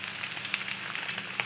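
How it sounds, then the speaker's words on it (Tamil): Anchovies frying in hot oil in a pan for petai sambal, a dense steady sizzle with scattered small pops and crackles, close and fairly quiet, with no talk. "முதல்ல பார்த்திங்கன்னா நம்ம வந்து நெத்திலி பொரிக்க போகிறோம்."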